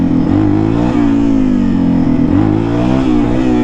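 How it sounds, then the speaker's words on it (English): Dirt bike engine revving during wheelie practice, a loud close rasping motor that swells and eases in repeated throttle blips, running continuously with no voices. "especially once you got the engine warmed up and RPMs up a little bit"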